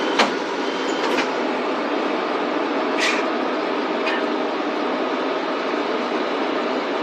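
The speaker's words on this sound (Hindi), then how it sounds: "तो ये मेट्रो आ गई" A Beijing metro train pulls into a station, producing a loud, steady rushing rumble of wheels on rail, with a few sharp clicks and clacks standing out over the continuous roar.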